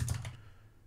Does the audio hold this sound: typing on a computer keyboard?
yes